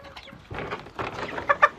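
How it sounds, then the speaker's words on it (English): Bronze heritage turkeys in a free-ranging flock out in the rain give a string of short, rattling calls, quiet at first and then louder, ending in two sharp, close bursts. "They're both bronze turkeys, bronze heritage."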